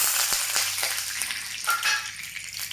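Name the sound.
fenugreek seeds frying in coconut oil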